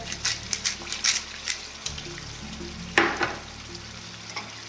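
Garlic cooking in a pan, a steady sizzle punctuated by rhythmic stirring scrapes and clinks, with one sharper knock midway.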